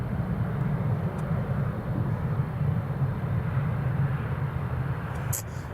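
A British Airways airliner departs Newcastle International Airport, its engines a steady, broad low roar holding at constant strength from start to finish, heard from the ground at a distance.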